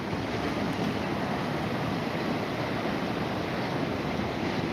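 Wind and sea waves on a beach on the Californian coast make a constant, dense roar of surf and gusting air, with wind buffeting the microphone and no voices.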